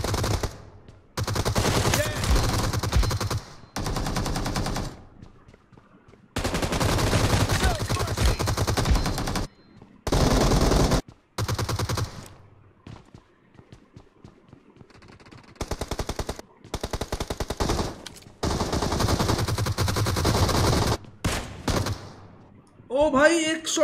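Gunfire in the mobile shooter BGMI, loud sustained bursts of rapid automatic fire broken by short pauses and quieter stretches.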